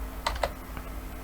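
Keys clack on a computer keyboard in a few quick, close taps, two sharp strokes close together followed by a lighter one, over a quiet room hum.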